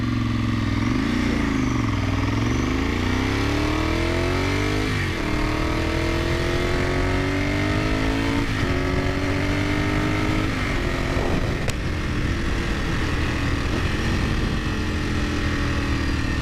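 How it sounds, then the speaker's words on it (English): A four-valve motorcycle engine hums and revs steadily through the gears, its pitch rising and dropping repeatedly over continuous riding wind, with no talking. "the lighter rotating mass of this engine"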